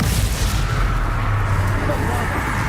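Spell-casting combat effects from the Hogwarts Legacy video game form a dense, continuous rumble of booming magical blasts, loud and close, sustained throughout without pause and with no voices over it.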